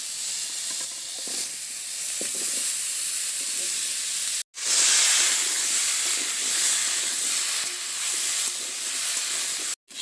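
Vegetables, potatoes and cauliflower, fry in oil left from frying fish, a loud continuous close sizzling hiss that cuts out abruptly near the middle and again at the end.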